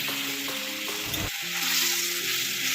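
Poppy seed paste frying in a pan for a Bengali okra and potato curry, a steady close sizzle with faint stirring scrapes throughout.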